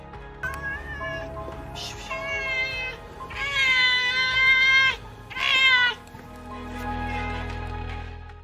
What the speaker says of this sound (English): a stray cat came to the resident's house, meowing very loudly.